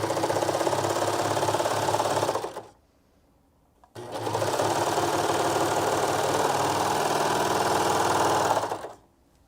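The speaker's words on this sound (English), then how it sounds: "I'm going to use a serger" A serger sews a seam in two fast, steady mechanical runs, the first about two and a half seconds and the second about five, separated by a brief silent pause, loud and close with a rapid rhythmic whir.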